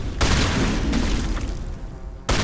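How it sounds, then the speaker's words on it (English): Sustained rumbling bursts of pistol fire from squad mates in the video game Mass Effect, a dense continuous barrage that cuts off briefly near the end before resuming. "our squad mates are using their pistols"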